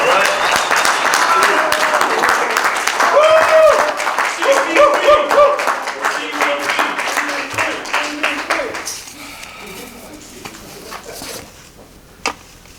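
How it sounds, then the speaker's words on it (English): A Toastmasters club audience in Winter Park applauds to welcome a speaker to the lectern, loud dense clapping with some laughter and voices mixed in, fading out gradually toward the end with a last isolated clap. "please give a raucous applause and welcome to the lectern, distinguished Toastmaster, Carmelo Belardo III"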